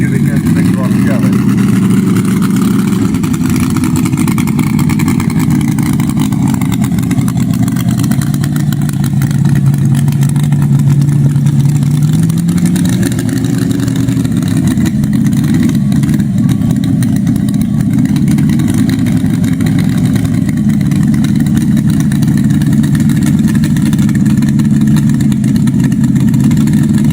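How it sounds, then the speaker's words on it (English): A 500 cubic inch big block Chevy engine in a mini pulling tractor roars at a county fair tractor pull, loud and sustained with a sliding rise in pitch midway, while a voice talks over it. "there's Dad's firing up. It's also 500 cubic inch big block Chevy."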